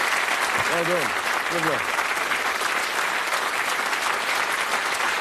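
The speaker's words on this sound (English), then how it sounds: "Give them a nice round of applause." Studio audience applause on a British television game show, a steady dense clapping that fills the whole stretch, with a host speaking briefly over it near the start.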